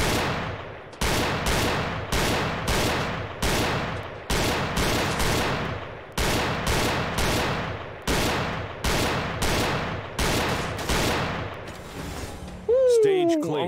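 Pistol fire in the VR game Gun Club VR rings out in crisp, loud single shots, about fifteen evenly spaced cracks, each with a short ringing tail, followed by a brief metallic clatter at the end.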